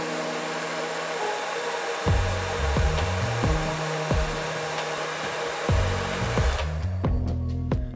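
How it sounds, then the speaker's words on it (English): A hair dryer blows close by while heating a Gundam Converge plastic model part, a steady loud whooshing drone with intermittent clicks and tonal motor shifts, running alone without speech. "just using a hairdryer works very well"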